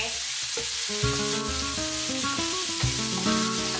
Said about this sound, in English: Saute.